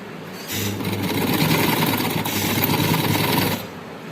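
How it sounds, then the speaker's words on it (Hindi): A sewing machine stitches a tulip shalwar in one continuous run of rapid, steady mechanical whirring and clatter, close and loud, starting abruptly and stopping after about three seconds. "तो चलें सिलाई करते हैं।"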